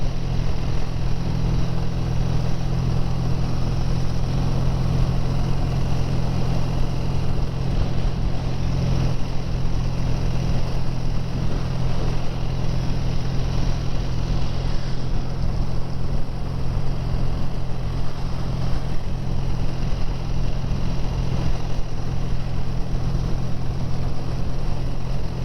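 A BSA A10 650 motorcycle cruising at about 40 mph gives a steady, loud engine drone mixed with constant wind rush, unbroken for the whole stretch with no talking.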